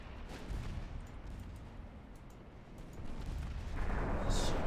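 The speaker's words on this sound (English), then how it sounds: "Torpedo hit on enemy battle cruiser." Torpedo striking an enemy battle cruiser in a naval warfare video game: a deep, rumbling explosion that swells and grows louder toward the end, with no talk over it.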